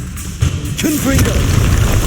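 In Hogwarts Legacy, a Confringo fire blast spell bursts with a deep booming impact followed by a rolling rumble, while a voice shouts over the blast.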